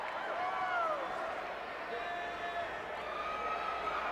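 Crowd noise rolls steadily through a Penn State wrestling arena, a broad murmuring roar of reaction that holds at even loudness with some brighter swells and scattered calls throughout.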